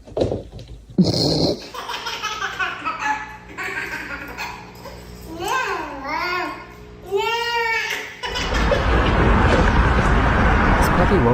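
Puppies play-fighting, with growls, yips and whiny squeals rising and falling close by, and a burst of rough scuffling noise at the end; people can be heard talking and laughing around them.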